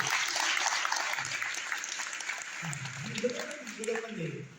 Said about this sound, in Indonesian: Tepuk tangannya bisa lebih hebat dari ini.